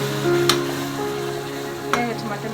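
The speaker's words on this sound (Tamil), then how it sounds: "மட்டன் வேக வச்ச மட்டன் எடுத்து அதில் போட்டு நம்ம கிளறணும்" Boiled mutton gets stirred into sautéed tomato, onion and mint in a pan, a soft continuous sizzle with two sharp scrapes of a spoon against the pot.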